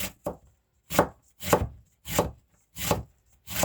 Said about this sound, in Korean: 다시 채를 썰어서 채를 썰어 볼게요